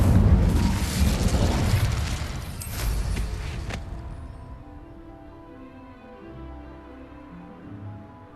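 An Incendio fire spell cast in Hogwarts Legacy roars as a loud fiery blast that fades after about four seconds into quieter ambient tones.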